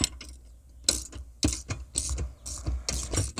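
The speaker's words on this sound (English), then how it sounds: "start using the socket, again 24 millimeter, to start locking it into place" A 24 mm socket ratchet tightens a bolt on an e-bike platform rack, giving bursts of rapid clicking pawl sounds in short strokes, close and clear with no speech.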